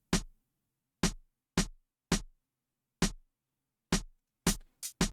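Boom bap snare drum in a hip-hop beat, a series of sharp, bright cracks with full-range noisy body, playing alone at a steady pulse and ending in a quick double hit.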